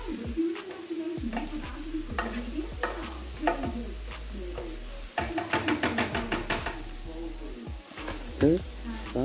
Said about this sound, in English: we're gonna add our mince into the pan